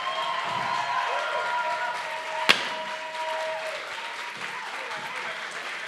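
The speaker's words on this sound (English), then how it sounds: "give a huge round of applause for Mike Nicholas and Team Sex Date." Awards ceremony audience at a film prize event applauds in a dense, steady wash, with one sharp loud bang midway and faint voices underneath.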